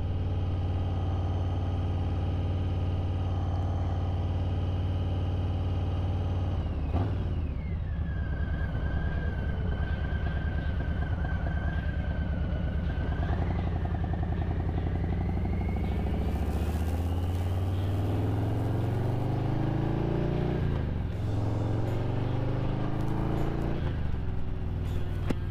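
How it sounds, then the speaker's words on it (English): Steady roaring wind noise inside a motorcycle helmet while riding, loud and continuous over the engine's drone, with a shift in tone partway through as the visor is closed and the rush changes. "I don't know how much wind noise you guys are getting or anything like that."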